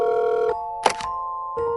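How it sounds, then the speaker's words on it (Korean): Outgoing telephone call ringing back through the handset, two ring bursts separated by a pause, with a brief click in between, clear and close with no talk. "전화를 걸면서 혹시나 내 전화도 안 받으면 어떡하지?"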